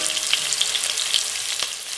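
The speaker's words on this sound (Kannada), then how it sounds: "ಸೊ ಒಗ್ಗರಣೆಗೆ ಹಾಕ್ಕೋತಾ ಇದ್ದೀನಿ." Kasuri methi dropped into hot tempering oil in a home kitchen gives a steady, close sizzle and crackle that runs continuously, with a few brief sharper pops and no voices.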